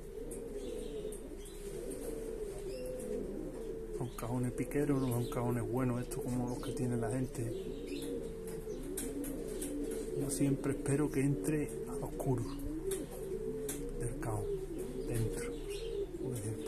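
Pigeons coo steadily in a loft or coop of cage boxes, the low repeated calls running alongside chirps and occasional wing flaps, with someone talking in Spanish throughout.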